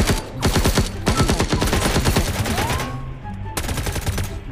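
Rapid automatic M416 rifle fire from a video game crackles in loud, sustained bursts, pausing briefly before another burst opens up.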